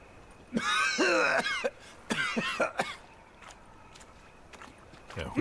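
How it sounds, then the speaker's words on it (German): A character in The Witcher 3 coughs loudly in a series of harsh, rasping bursts, the spell easing into quieter outdoor ambience. "Hustet erstmal mega laut."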